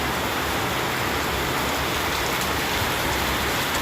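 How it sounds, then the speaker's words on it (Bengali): A heavy downpour pours down loudly and without a break, a dense, roaring hiss of rain hitting surfaces close by, with no talking. "প্রচুর জোরে বৃষ্টি হচ্ছে, ঝমঝম করে।"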